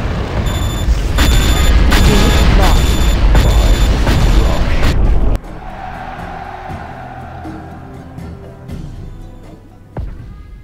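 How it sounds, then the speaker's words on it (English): A nuclear missile strikes in Command & Conquer Generals, a loud roaring blast and rumble lasting about five seconds that cuts off abruptly into quieter game ambience, with a faint thump near the end. "We have launched our nuclear missile."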